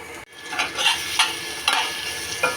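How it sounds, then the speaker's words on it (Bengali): Onions frying in a pan for egg chicken fried rice, a steady close sizzle broken by rhythmic scraping stirs of a spatula, with no voices. "তারপরে একটু পেঁয়াজ ভেজে নিচ্ছি।"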